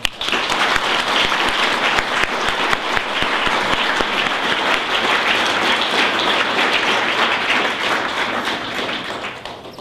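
A hall audience gives a final round of applause at the close of an Asia Pacific Week 2011 evening at ANU, with dense, steady clapping lasting the full stretch and tapering slightly at the end, with no voices over it.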